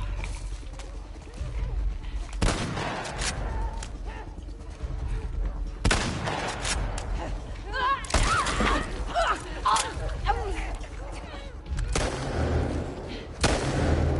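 Gunfire and bursts of shooting in a tense survival-horror video game session, heard in loud repeated bursts across the stretch with players talking over the action.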